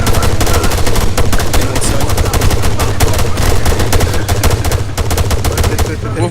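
Dense, loud rapid gunfire in a video game, a continuous automatic burst of shots rattling for several seconds, with a voice faintly underneath.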